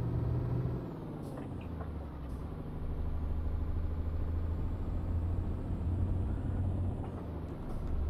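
A tanker truck engine rumbles low and steady nearby, with short hissing bursts of air brakes releasing over the idling drone.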